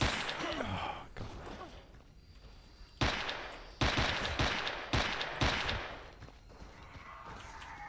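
Automatic gunfire in the shooter STALKER Anomaly: loud sharp bursts of shots in quick clusters, with gaps between volleys and a tense ambient background.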